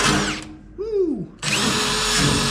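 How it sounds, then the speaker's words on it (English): A power drill runs loudly on the rusty cab corner of a truck, cutting out briefly as the motor winds down with a falling whine, then roaring back at full speed. "just taking my drill and going"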